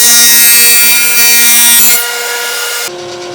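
A Ridgid R4512 table saw scores dado cuts in wood: a loud, steady, high whine with a strong hum. The tone drops as the blade bites and then eases off near the end.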